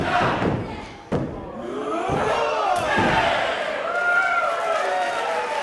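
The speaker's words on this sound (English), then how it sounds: "the crowd counting along" A large wrestling crowd roars and counts along in rhythmic chants, with heavy thuds from clubbing blows in the ring cutting through the noise.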